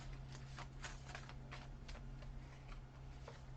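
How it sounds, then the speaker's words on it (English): A deck of tarot cards being shuffled in a pick-a-card reading, quiet riffling and soft irregular flicks of card edges over a steady low hum, faint and close. "as I try to shuffle this deck"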